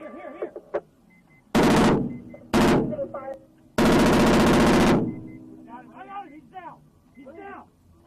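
Bursts of loud, close gunfire during a shootout with police: two rapid volleys, then a longer sustained burst, with a voice talking between and after the shots.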